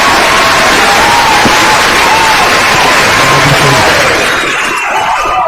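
Loud, dense applause and cheering from a crowd at a gathering, a steady broadband wash that fills the whole stretch and thins slightly near the end, with a voice faintly audible underneath.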